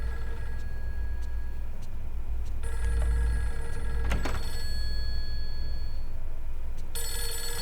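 An old telephone rings in the horror video game Fatal Frame III, repeated bell-like trills sounding over a steady hum of dark background ambience.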